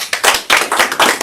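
Audience clapping at a Find Your Purpose community event, a short loud burst of several hands striking in quick uneven rhythm, close and filling the room, with no voices over it.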